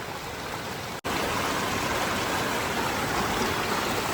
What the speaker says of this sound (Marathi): हा बघा कसं पाणी वाहतोय इकडे